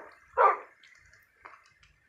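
A tamed wolf barks in Minecraft: one clear, loud bark followed by a softer, shorter second bark a second later, alone with near silence between.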